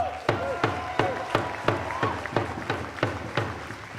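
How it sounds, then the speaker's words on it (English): Rhythmic clapping at an Indigenous Peoples' Day celebration at City Hall, about a dozen sharp, evenly spaced claps at a steady beat, with voices and chanting running underneath. "Please give them a round of applause"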